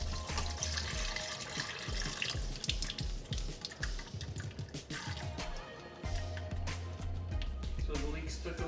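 Water runs and splashes into a kitchen sink while leeks are washed, a continuous pouring stream with dripping and gurgling, fairly quiet, with low background rumble throughout.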